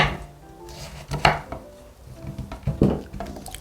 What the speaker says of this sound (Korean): 이 호박을 어떻게 썰 거냐면은 이거는 옛날에 먹던 방식으로 좀 투박하게 썰 거예요